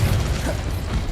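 An Incendio fire spell cast in Hogwarts Legacy: a dense, steady roaring rush of flame that holds for about a second at strong level, with a low rumbling body.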